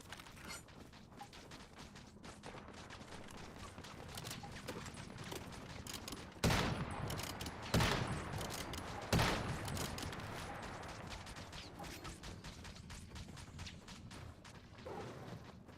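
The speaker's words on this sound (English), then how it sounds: "Why are these people's turrets always trying to kill my crocodiles?" Base turrets firing at crocodiles in the survival game Once Human, quick clattering shots with a few sharper loud bursts midway over a mechanical, creaking background at moderate level.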